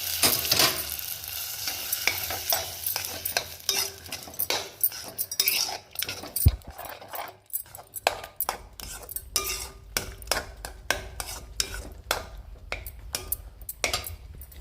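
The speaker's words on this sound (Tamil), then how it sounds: "இதுக்கு கடுகு உளுத்தம் பருப்பு தாளித்து ஊற்றிடுவாங்க" Mustard seeds and urad dal tempering in hot oil for a Tamil vegetable kootu, a crackly sizzle punctuated by quick metallic spoon scrapes and clinks against the pan, near and lively, with no speech.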